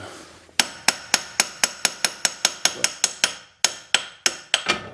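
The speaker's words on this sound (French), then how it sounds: "Je tape avec un petit marteau léger." Light metallic taps from a small, light hammer during Mercedes upper control arm replacement, about fifteen evenly spaced sharp strikes with a short pause partway through, close and clear with no talking.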